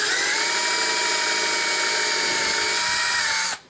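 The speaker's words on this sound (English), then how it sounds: "I will drill it out so we have a screw going through the plastic and the aluminum" Power drill boring through plastic and aluminum for a screw hole, a loud steady high-pitched whine running continuously for several seconds before cutting off abruptly at the end, with no talking.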